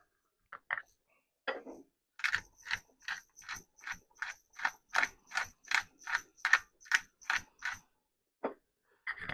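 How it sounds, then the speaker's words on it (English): A hand mill grinds salt and pepper over a deviled egg salad: a quick run of crisp, evenly spaced ratcheting clicks close up, with a couple of isolated twists before and after. "Probably could do with another small grind of salt. And a bit more pepper."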